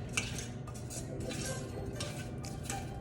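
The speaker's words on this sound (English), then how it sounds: "So I went ahead, I mixed it. I made sure that all of the slices are covered in butter." A cooking spoon stirs apple slices coated in butter in a kitchen pan, producing soft scraping and light clinks of utensil on cookware, close and quiet, repeating irregularly.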